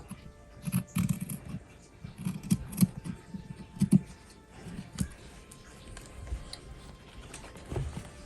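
Scissors cut fabric for a wallet flap, producing a series of irregular, close snips and crisp clicks spread across the whole clip.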